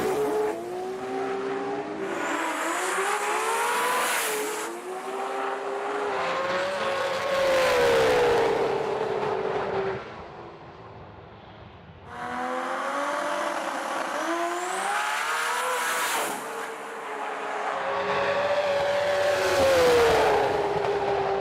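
Pro Street Nissan GTR drag cars race down the strip, engines roaring loudly with rising revs and gear changes in two long surging runs, a brief lull between them.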